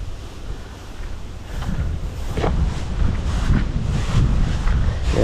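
Strong wind gusting across an open rural yard where rice grain is spread out to dry, a steady loud roar of buffeting that swells and surges throughout with no talk.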